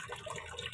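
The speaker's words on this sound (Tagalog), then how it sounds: "Tignan nyo po kung gaano kahina tubig." A weak trickle of water runs from a tap into a sink as a steady, close, continuous splash that lasts under a second.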